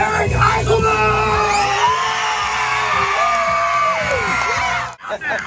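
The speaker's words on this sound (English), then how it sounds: "I want to hear some real loud screaming, cheering for Mr. Eric Eiselman!" A crowd of juniors at an LPGA golf clinic screams, yells and cheers loudly and continuously, a dense roar of young voices with whoops rising over it.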